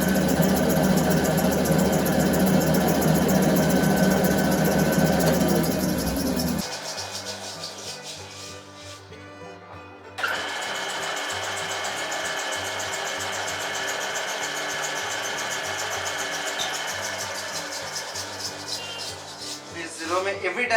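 Metal lathe running with the compound slide and half nut engaged while turning a riser block, a steady mechanical whir that drops out partway and starts again, heard near with a voice talking over it.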